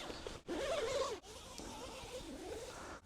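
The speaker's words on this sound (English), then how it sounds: "We've got 2 zips on the door here" A zip on the door of an inexpensive budget tent is drawn open in two quick rasping pulls, close and clear, followed by softer fabric rustling.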